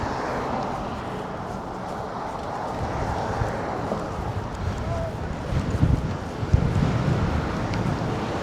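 Wind gusts on a blustery Saturday afternoon in West Yellowstone, Montana, a steady broad rushing roar with microphone buffeting and a few louder thumps, filling the whole stretch.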